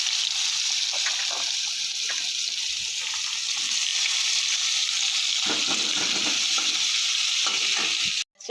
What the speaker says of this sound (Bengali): এবার একটু আলুটা ভাজবো, কয়েকটা আলু পিস একটু ভেজে নেবো।